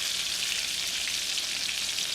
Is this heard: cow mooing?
no